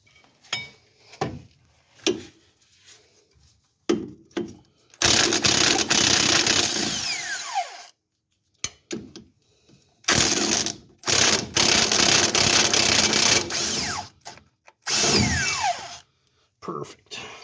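Bursts of a power impact tool rattle loudly as nuts are undone on a 2018 Chevrolet Silverado during a 3-inch leveling kit install, several long whirring runs separated by pauses with clinks and handling noises nearby.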